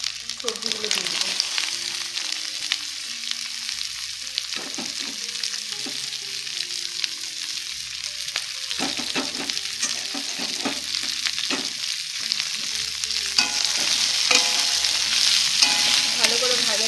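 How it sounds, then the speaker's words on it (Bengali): Vegetables and ginger sizzle steadily in a hot pan while a utensil scrapes and clatters through repeated stirring. The frying grows louder and hissier toward the end. "অল্প আদা একটুখানি ভেজে সবজিগুলো দিয়ে দেবো।"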